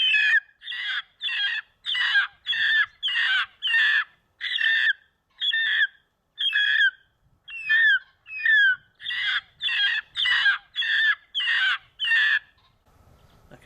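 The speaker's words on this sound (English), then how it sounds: "is the Architect pheasant distress call. I'll play it for you now so you can hear just exactly what that sounds like." An electronic game caller plays a pheasant distress call, a rapid, regular series of loud, harsh squawking bursts repeated about twenty times in steady rhythm, close and clear with no voices.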